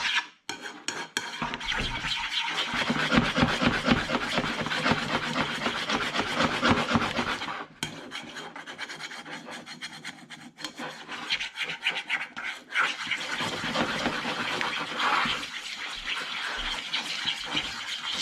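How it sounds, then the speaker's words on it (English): Scrambled egg with crab meat is stirred in a pan, giving close, continuous scraping and clinking of a utensil against the pan with uneven rhythm and short pauses, and no talking. "Just got to put it in the pan and keep stirring."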